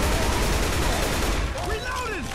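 Rapid video game gunfire in Left 4 Dead 2 crackles in a dense, continuous volley, then thins as whooshing, swooping effects take over; the shots are loud and close.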